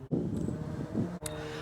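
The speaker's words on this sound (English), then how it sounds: "It's a little windy today." Wind buffets the microphone outdoors, a continuous low rumble with brief dropouts.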